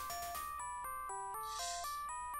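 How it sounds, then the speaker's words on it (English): Sequence of bright, bell-like synthesized chimes from the computer game Dark Seed, about eight short tones stepping down and back up in pitch, quiet and clean with no voices. "I swear to God, these chimes."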